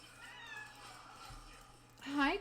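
A pet cat meows close by, a short rising-and-falling cry near the end, heard over a low steady background hum and quiet room sound.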